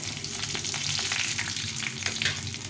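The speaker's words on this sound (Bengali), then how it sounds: "সাদা জিরে দুটো তেজপাতা আর দুটো নিয়েছি তিনটে গরম মশলা গোটা গরম মশলা নিয়েছি এটা ফোড়নে দিলাম" Cumin seeds, two bay leaves and whole garam masala crackle and sizzle briskly in hot oil, a dense, continuous close-up frying hiss with small pops throughout.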